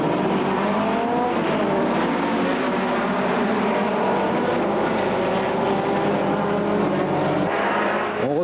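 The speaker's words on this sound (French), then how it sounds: "Au départ de la première course, le poleman Fabrice Lefebvre prend le meilleur en vol." VW Beetle race cars in the Super VW Cup at Magny-Cours, 1998, roaring off together at a race start: a loud, dense wall of engine noise with rising revs, sustained and close.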